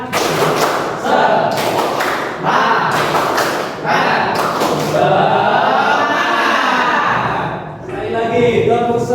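A class claps out a patterned cheer together, loud sharp bursts of group claps in rhythmic clusters, with voices chanting along between the hits.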